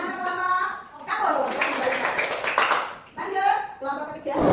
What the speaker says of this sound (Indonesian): Tepuk tangan kelompok campur.